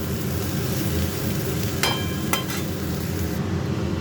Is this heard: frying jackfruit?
yes